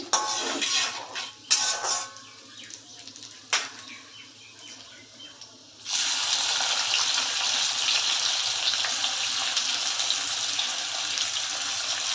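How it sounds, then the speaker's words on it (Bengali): Two large sliced onions drop into hot oil in a pan with the heat turned up, setting off a loud, steady, hissing sizzle that holds after a few clinks and scrapes of utensils. "পেঁয়াজটা এখন এর মধ্যে দিয়ে দেবো। আঁচটা একটু বাড়িয়ে দিচ্ছি।"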